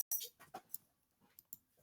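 A small pet guard dog barks in a few sharp, separate bursts indoors as a neighbor arrives, loud then quieter yips with short gaps between them.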